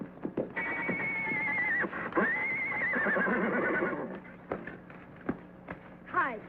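A horse in a 1955 Western adventure TV show gives a long, loud whinny lasting several seconds, followed by brief snorts and clattering sounds at close range.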